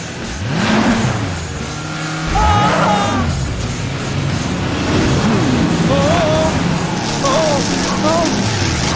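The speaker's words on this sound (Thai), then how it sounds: "นายจะขับไปข้างหน้า และใส่เบรก" Cartoon truck in a children's city-driving game, with a continuous engine rumble as it drives forward, plus bright squeal-like tones and a heavier braking swoosh, all loud and busy with game sound effects.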